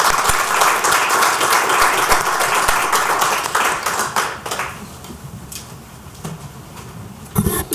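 Audience applause at a city council meeting, a dense steady burst of many hands clapping that thins out and fades over the last few seconds, with a brief scatter of claps near the end.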